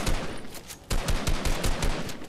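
Rapid gunfire from a Fortnite match sounds as a quick series of loud, sharp shots, with a brief pause before the bursts resume.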